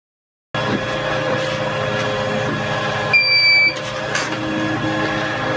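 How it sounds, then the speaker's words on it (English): A DIY lithium battery UPS inverter, running low on voltage, gives a short, clear electronic beep partway through over a steady background hum. "the inverter is starting to beep because it's getting low voltage"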